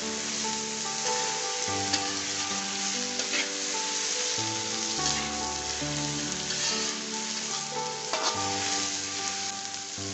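Cut potatoes sautéing with masala in a pan for a sardine curry, giving a dense, even sizzle close up, with occasional stirring scrapes and soft spatters, while tonal background music plays underneath.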